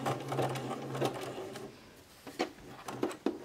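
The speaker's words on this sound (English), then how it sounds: "backstitch about a quarter inch away from the edge." Sewing machine backstitching fabric for rag doll bloomers, giving short whirring bursts of stitching with brief pauses and small mechanical clicks between runs, heard close up and fairly quiet.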